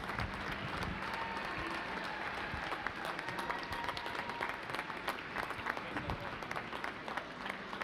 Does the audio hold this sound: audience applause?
yes